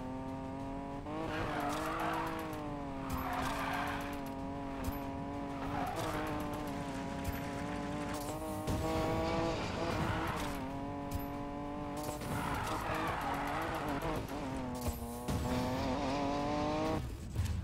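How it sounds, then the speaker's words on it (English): Engine drone and sustained tire squeal from a car drifting in the racing game Need for Speed Payback, loud and continuous, with pitch rising and falling across repeated slides. "My drifting is terrible."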